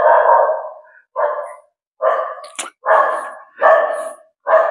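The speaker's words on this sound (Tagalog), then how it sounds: "May aso dun." A dog barks repeatedly outdoors near a housing construction site in Naic, Cavite, Philippines, with about six loud, close barks in an uneven rhythm separated by brief pauses, with no talk over them.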